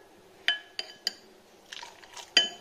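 Metal vessels clink several times, spaced apart, as wheat milk for palm-jaggery halwa is tipped back and forth between them to froth it, with a brief soft splash of liquid near the end.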